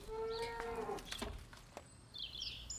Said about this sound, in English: There's a cow and calf left behind.